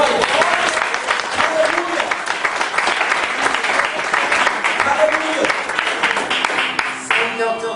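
A church congregation applauds, dense rapid clapping sustained at full volume for several seconds, with voices mixed in, before thinning slightly toward the end.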